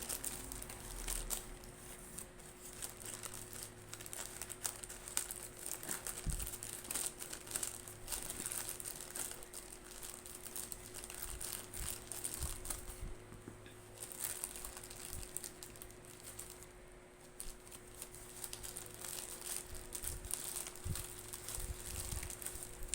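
Plastic packaging crinkles and rustles steadily while a ring light is unboxed, a close, continuous crackling texture with a few sharper crunches and no talk.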